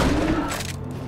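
Shotgun blasts in Borderlands 2 land as a dense, booming burst of gunfire, loud and close, with a rumbling tail that fades quickly.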